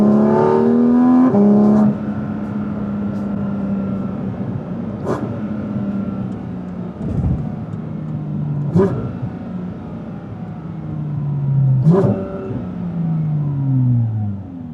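A Porsche GT4 RS engine drones loud and close, its pitch rising and falling as the revs change, with a few sharp knocks and clicks along the way.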